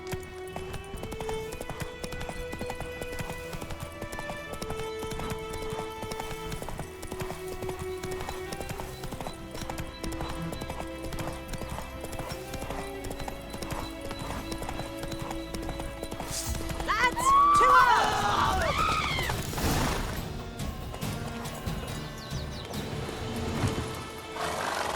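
Horse hooves clip-clop steadily in The Witcher 3 game, a rhythmic galloping gait under constant orchestral music, with a brief whinny and a surge of louder motion near the end.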